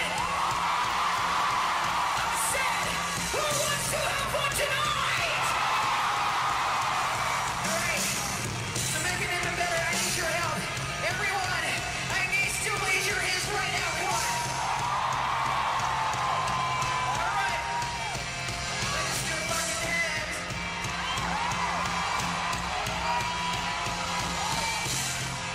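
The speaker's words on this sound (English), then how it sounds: "The crowd is going crazy." A concert audience in Manila roars steadily, a thick wash of cheering, whooping and some clapping that swells and eases over a long stretch, heard from a distance without pause.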